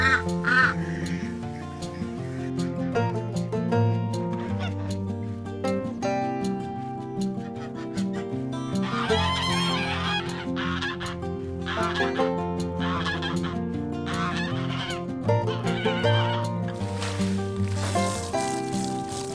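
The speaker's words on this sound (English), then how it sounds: "we'll go get the rest of the ducks out onto the pasture here" Ducks and geese quack and honk over a steady bed of music, the calls mixed and partly buried, with no talking.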